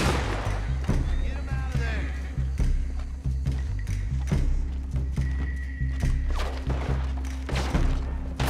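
Gunfire from Red Dead Redemption 2, a single sharp shot landing as a headshot, heard among repeated game thuds, hoof-like clip-clop and low music that carries on throughout.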